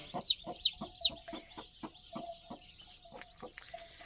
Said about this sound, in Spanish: Mira la gallina.